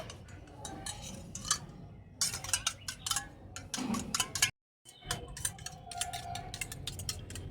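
A spoon stirring milk with green food colouring in a bowl, repeated light clinks and scrapes in bursts with a short silent gap, close by.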